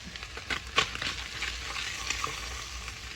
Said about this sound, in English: I let this cook just for a little bit to sear the outside again